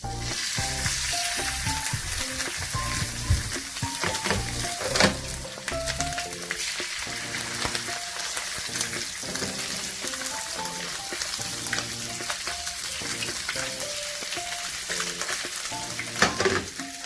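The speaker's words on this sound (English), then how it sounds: "So you want your oil to be quite hot so that your skin can crisp up nicely." Fish fries skin-side down in hot oil, a steady dense sizzle with crackling spits and pops running throughout, close and loud with no talking.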